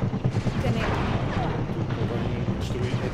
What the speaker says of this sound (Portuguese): É esse disparo.